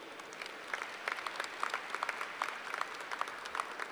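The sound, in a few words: applause at a university commencement ceremony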